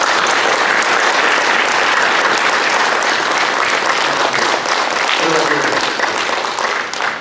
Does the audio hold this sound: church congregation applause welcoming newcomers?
yes